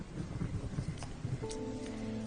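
Steady, dense rain pours down in a continuous wash of noise, with a low rumble underneath and no voices.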